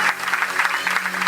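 A church congregation clapping in praise of God: dense, steady applause from many hands filling the room, fairly loud and continuous throughout.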